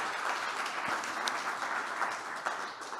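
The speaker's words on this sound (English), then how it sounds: "A big applause for you guys." Audience applause in a room at an open day event for an energy startup program, a steady wash of clapping held at an even level throughout, with no voices over it.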